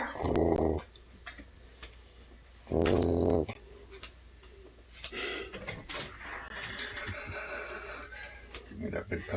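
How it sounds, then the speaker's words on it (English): A dog growls in two low, rumbling bursts near the start and again a few seconds later, with people talking over a noisy indoor background. "He's growling at you."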